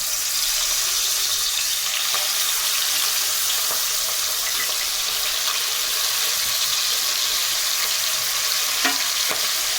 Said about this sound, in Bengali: কড়াইতে গরম হয়ে গেছে তো এক একে আমি মাছ তেলের মধ্যে দিয়ে দিলাম